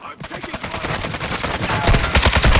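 Rapid sustained automatic gunfire from an RPK in a video game, loud and continuous bursts with dense repeated shots that grow heavier toward the end.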